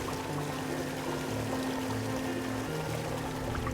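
Water flowing through the botanic garden waterways, a continuous dense pouring rush with a low steady hum beneath, close and unbroken.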